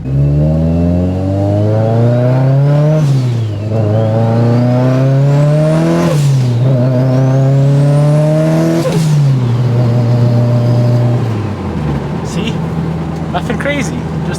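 Turbocharged Mitsubishi Lancer Evo on a dyno running 15 psi of boost, its engine loud and close as it revs and climbs through repeated pulls, gear changes dropping the pitch, before easing off to idle.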